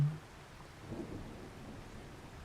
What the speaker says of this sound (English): Oh, here's the rain now.